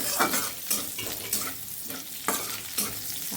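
Potatoes fry with onion stalks in a home kitchen pan, sizzling steadily under brisk, rhythmic stirring. Scraping strokes come roughly every half second, close and clear, with no voices.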